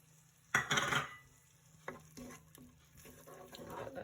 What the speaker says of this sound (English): I've added the minced meat now into the pan and some of the Italian herb seasoning